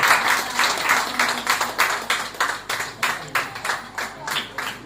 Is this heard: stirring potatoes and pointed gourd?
no